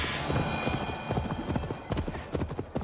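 Horse hooves clip-clop in a steady galloping rhythm in Assassin's Creed Valhalla, moderately loud and close, with a brief neigh and a player's voice speaking faintly over the trotting.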